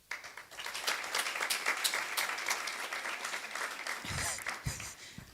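An audience at a cybersecurity conference applauds as a company CEO walks to the stage. The clapping is steady and fairly even, then thins into a few scattered claps near the end.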